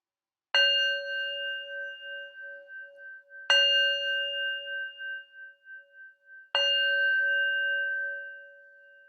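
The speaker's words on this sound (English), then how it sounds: "And I'll finish with the bell." A meditation bell is struck three times at even intervals, each strike a clear, bright ring that hangs and slowly decays, the tones shimmering with a gentle pulsing beat in a quiet room.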